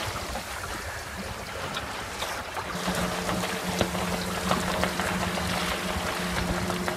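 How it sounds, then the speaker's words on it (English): Sailing dinghy underway in gusty wind, a constant rushing blend of wind and water against the hull with a faint steady hum and occasional light knocks, no speech. "The wind has come up a bit. Some interesting gusts through here."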